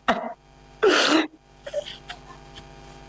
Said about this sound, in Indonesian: Terdengar suara tangisan seorang ibu dari salah satu rumah karena anaknya meninggal